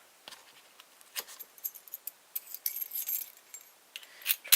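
A small bunch of keys jangles and clinks close by in scattered light metallic bursts while a plastic training lock is tried, with no talking.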